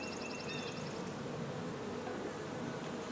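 Honey bees buzz around a hive feeder just after a package installation. A soft, continuous drone of many insects hangs at a low level, with faint higher whines drifting past in the first second.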